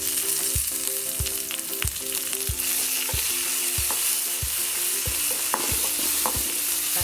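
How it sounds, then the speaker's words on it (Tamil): Tomato frying in a pan with onion, garlic and curry leaves for horse gram chutney: a steady sizzle broken by regular scraping stirs of the spoon, close and clear, with no talk. "தக்காளி கொஞ்சம் வதங்கணும்."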